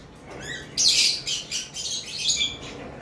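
Caged lovebirds chirp close by in quick, high twittering bursts, several overlapping calls repeating over a few seconds.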